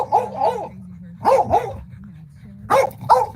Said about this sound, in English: Oh boy, here we go with the barking.